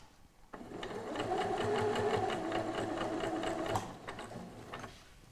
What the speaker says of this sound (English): use the edge of the presser foot along the edge of the bag fabric so that I can stitch in a nice straight line along the edge of the trim